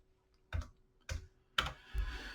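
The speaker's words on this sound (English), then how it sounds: "My brain is going faster than my fingers are typing here." Typing on a computer keyboard: three or four separate close bursts of key clicks, spaced about half a second apart, fairly quiet against a faint steady hum.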